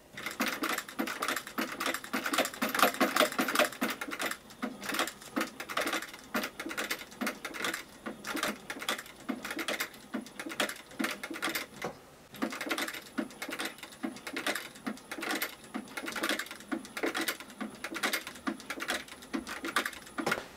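A shoemaker's sewing machine with an exposed mechanism runs in quick rhythmic bursts of mechanical clicking and chattering, stopping briefly and then starting again at a steady pace.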